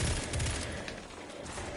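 Rapid bursts of pulse rifle gunfire in the sci-fi shooter Destiny 2 during a PvP match, dense overlapping shots with a strong low-end punch, loud and continuous.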